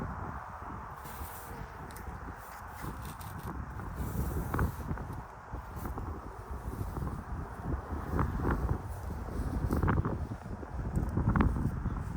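Strong wind buffets the microphone in gusts at a beehive apiary, a continuous roar rising and falling, with faint rustling beneath and no voices.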